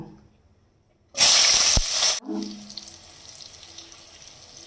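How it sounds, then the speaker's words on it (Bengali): Eggplant dropped into a hot oiled pan in a home kitchen bursts into a loud, sudden sizzle for about a second. It then settles into a quieter, steady frying hiss. "এবার দেখুন আমি বেগুনটাকে একটু ভেজে নেব"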